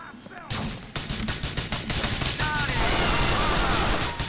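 Rapid gunfire in GTA: The Lost and Damned crackles in dense, loud bursts after a brief quieter start, continuing as sustained automatic fire with a few whistling tones overhead.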